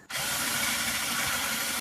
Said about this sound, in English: I'm going to actually drill pilot holes for these.